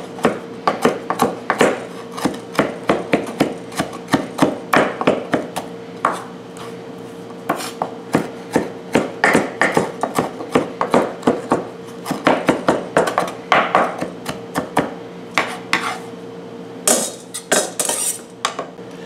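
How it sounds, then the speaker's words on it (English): Cilantro chopped with a knife on a board, a long run of quick, sharp, close taps in an uneven rhythm with brief pauses, loud and alone without talk. "let's take about half of this bunch of the cilantro and we're going to chop it up"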